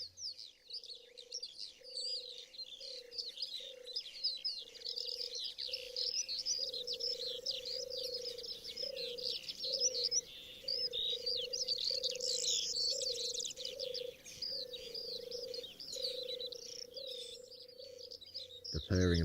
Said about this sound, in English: the landscape is filled with birdsong